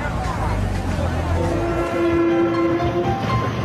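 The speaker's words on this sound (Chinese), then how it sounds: "京沈铁路最早修建于1890年，由詹天佑参与，连接关内外" A train passes on the Beijing–Shenyang railway near Goubangzi, its horn sounding a long steady blast over the rumble and clatter of rail cars, fairly close and loud.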